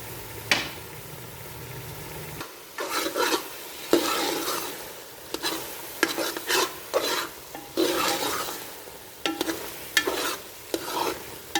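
Grated carrots stir-frying with milk and ghee in a pan for carrot halwa, a steady close sizzle broken by repeated scraping strokes of a spoon at an irregular rhythm.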